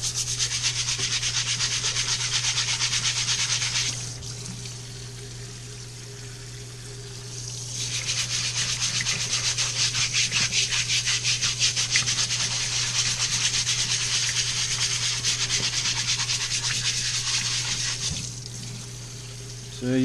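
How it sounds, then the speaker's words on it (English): Steady scrubbing and rubbing on rocks being cleaned for an aquarium tank, with running water underneath and a steady hum, going in long stretches broken by a short quieter pause. "let's see what scrubbing that out a little bit will look like"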